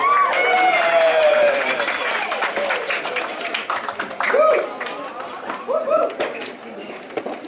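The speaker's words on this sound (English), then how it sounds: "Big round of applause, guys." Scattered clapping from a wedding crowd rises briefly at the start, with cheerful voices and whoops over it as the applause thins out.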